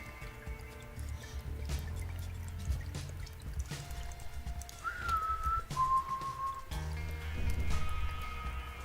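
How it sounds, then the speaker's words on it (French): A person whistles into a microphone during a Binding of Isaac: Afterbirth gameplay session: a couple of short, thin, steady whistled tones partway through, sitting over continuous game music and effects. "siffler dans un micro, ça va faire un son"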